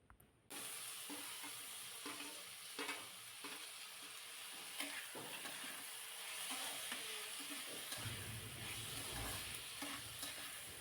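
Chopped tomato sautéing in a pan of vegetables for bread cutlets, giving a steady, close sizzle and hiss with light stirring throughout and no talking.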